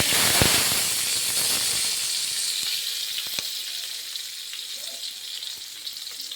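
Curry leaves and chilies dropped into hot oil with cumin for a tuor dal tempering, bursting into a loud sizzle that slowly settles into a steady, softer frying hiss with occasional pops.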